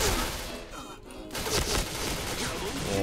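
Explosions and bursts of gunfire from a video game battle crackle loudly and continuously, with a brief dip in the middle before the blasts resume.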